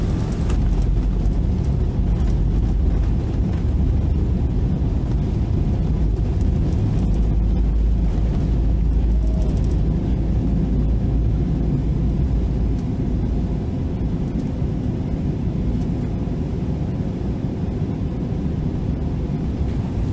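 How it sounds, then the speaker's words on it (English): A 50-year-old Fly540 propeller airliner taking off from the runway at Nairobi, heard from inside the cabin as a loud, steady engine roar with heavy low rumble that holds for the whole stretch without talk. "Here is the liftoff from the runway."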